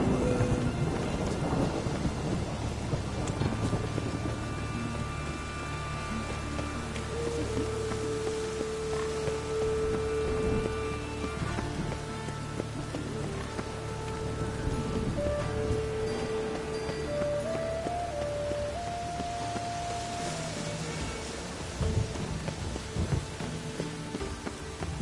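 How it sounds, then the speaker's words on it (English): Rain and rolling thunder from a PS4 video game, a steady wash of rainfall with low rumbles, continuous and fairly loud throughout, with tonal game sounds drifting over the storm and no talking. "I like rain."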